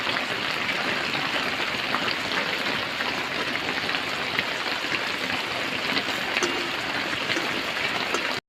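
Spiced paste water poured around a pan of fish pieces and eggs for a rasa curry, a steady broadband splashing and trickling hiss that runs evenly throughout with no voices.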